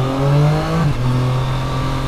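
A 2020 Triumph Street Triple RS motorcycle, a three-cylinder naked bike, accelerates out of a turn on a muddy road. Its engine note holds steady, then steps down briefly with a gear change, loud and close throughout, with no talking.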